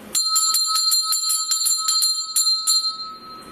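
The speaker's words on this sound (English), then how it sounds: "Gonna ring the bell." A small handbell rung during a ghost hunt gives a rapid run of about fifteen bright metallic strikes, close and loud, with the ringing decaying into quiet at the end.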